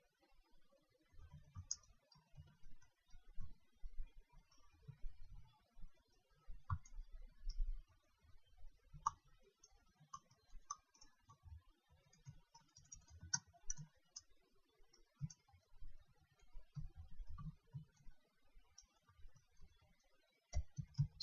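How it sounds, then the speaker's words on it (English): Quiet, irregular computer keyboard typing clicks in bursts and pauses as code is entered, close and faint, with no speech. "Typing a lot of code here."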